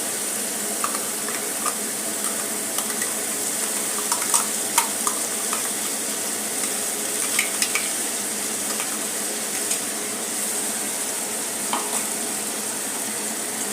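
Coconut paste frying in oil with an onion-tomato paste for an egg curry, giving a steady, close sizzle throughout with light scraping and clinking as it is stirred in the pan.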